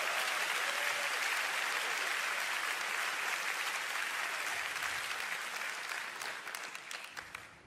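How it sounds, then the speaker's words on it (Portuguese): Congregation at City Harvest Church in Singapore applauding for Noah, a dense wash of clapping from a large crowd that holds steady before tapering off near the end. "Por que você não bate palmas para Noah?"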